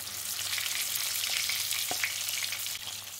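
Vegetables frying in a little very hot oil with turmeric, giving a steady, dense crackling sizzle close by that stays even throughout with a few faint stirring knocks.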